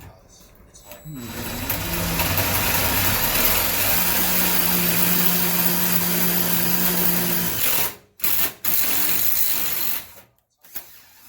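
A power drill bores out parts on a small trailer, giving a loud, steady whining drone for about six seconds. It then cuts out and gives a few brief bursts before falling quiet.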